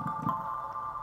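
A synth marimba patch on a keyboard, soaked in delay and a massive reverb, rings as a sustained wash of tone with soft repeating note attacks blurring together at moderate level, no voices.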